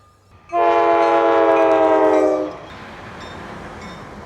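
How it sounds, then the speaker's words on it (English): A train horn blasts loud and sustained for about two seconds from nearby on an outdoor track, then cuts off to a steady lower rumble of rail cars rolling past, with no talking. "We'll let the train go by"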